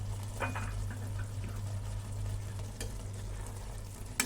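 Masala Maggi noodles being stirred in a pan, soft close sizzling with scraping and clinking strokes of a spoon against the metal over a low hum.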